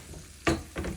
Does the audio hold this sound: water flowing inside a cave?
no